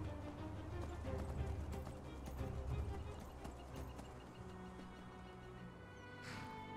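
Donkey hooves clip-clopping in the Enderal video game, a steady run of soft hoof beats under game music, with a person talking over it.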